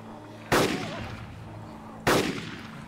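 Two sharp, loud DMR rifle gunshots in the video game DayZ: Origins, about a second and a half apart, each with a booming echoing tail, over a low steady background hum.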